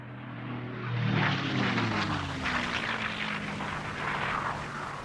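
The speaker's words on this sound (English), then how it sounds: "Almost immediately, they came under attack from low-flying US torpedo bombers." Low-flying US torpedo bomber aircraft attack with a droning propeller engine that swells as it passes overhead, then a broad roar and rumble that stays loud and fills the scene without speech.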